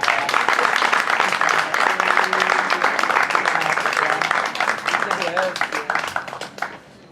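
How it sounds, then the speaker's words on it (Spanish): At a book presentation for María Teresa Andruetto, an audience gives loud, dense, sustained applause, with voices mixed in, before it tapers off at the end. "le vamos a brindar un fuerte aplauso"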